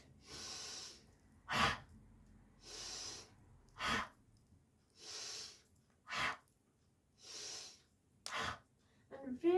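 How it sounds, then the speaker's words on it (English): Audible exhales through the mouth during a yoga session come in a slow, even rhythm, each soft breath followed by a sharper intake, close and quiet with no talking. "you're going to exhale audibly through the mouth like this"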